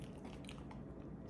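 Faint, close crunching bite into a Little Debbie ice cream treat, a brief crisp chewing texture with no talk.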